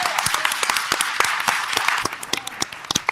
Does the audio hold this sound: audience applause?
yes